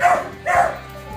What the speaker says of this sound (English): We got other dogs barking.